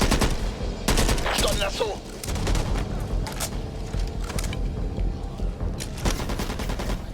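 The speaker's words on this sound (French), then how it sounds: "Une mitraillette ici" Rapid machine gun fire in a Halloween-themed action video game, dense bursts with booming impacts under excited talk, several heavy bursts hammering through the whole stretch.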